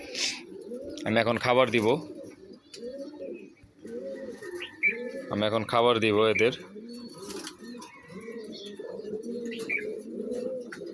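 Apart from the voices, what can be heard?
breeder pigeons cooing on a rooftop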